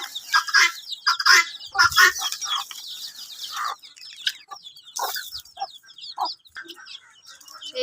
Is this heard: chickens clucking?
yes